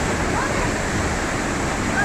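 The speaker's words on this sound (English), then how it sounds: "my favorite part here, that small part waterfall" Small waterfall at Cane River Falls, a constant close rushing splash of falling water that stays loud and even from start to finish.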